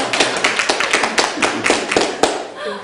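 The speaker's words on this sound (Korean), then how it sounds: "박수." An audience at a Korean church training forum claps in a quick, fairly regular rhythm, each sharp clap close and distinct, fading out just before the end.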